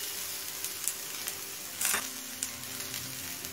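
Prawns go into a pan of vegetables already frying for a Bengali panchmishali sabji, giving a steady loud sizzle with brief bursts of crackle as they hit the oil, heard alone without talk.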